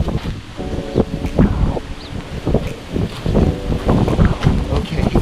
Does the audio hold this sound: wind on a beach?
yes